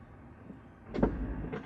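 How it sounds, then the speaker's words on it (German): The retrofitted electric tailgate of a Tesla Model 3 opens, a brief whirring motor burst with a soft mechanical clunk. Quiet and close, heard alone. "hört ihr schon hinten, wie die Heckklappe aufgeht"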